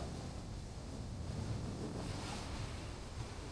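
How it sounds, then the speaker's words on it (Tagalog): Big ocean waves wash onto a beach in a constant loud, dense rush of surf, mixed with wind buffeting the microphone, with no talking. "Grabe alon, lalaki."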